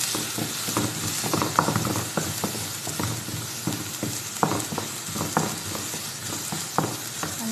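Garlic and onion frying in a pan for Qatari beef majboos, a steady close sizzle broken by repeated scraping stirs at an uneven rhythm, with no voices.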